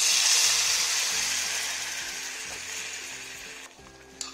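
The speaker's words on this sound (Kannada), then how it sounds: "ಈ ಒಗ್ಗರಣೆ ಹಾಕ್ಕೊಳ್ಳೋಣ" Mustard seeds and dried chillies sizzle in hot ghee as a tempering for Karnataka bisi bele bath, making a steady, loud broadband crackle that slowly fades over a few seconds, with a brief clink near the end.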